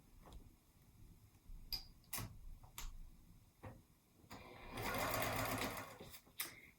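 Sewing machine stitching a 3/8-inch seam on a zippered cosmetic bag, with scattered clicks and short bursts, then a sustained run of rapid stitching near the end.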